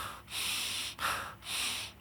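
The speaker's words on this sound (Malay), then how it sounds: "tarik nafas dalam, kemudian tahan kat perut" Three long, deep breaths are drawn in and out one after another, close and fairly loud, as a person prepares to recite the Quran.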